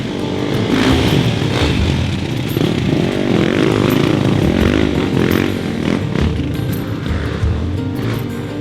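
Dirt bike engines, a 2023 KTM 350 XCF and a GasGas EX350F four-stroke, buzz and rev loudly on an off-road ride, a continuous raspy roar with rising and falling throttle.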